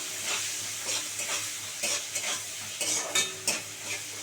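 Vegetables with turmeric stirred and fried in a pan, a steady sizzle broken by repeated scraping strokes of a spatula, close and fairly loud, with no talking.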